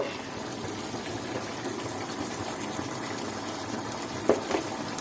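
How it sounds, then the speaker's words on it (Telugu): Water is poured from a glass into a simmering pan of cutlet gravy, giving a steady, close gush that runs throughout. A couple of faint clinks come near the end, and no one speaks. "గ్రేవీ కోసం మనం ఇందులో గ్లాస్ నీళ్ళు పోద్దాము"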